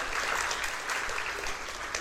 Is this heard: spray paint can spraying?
no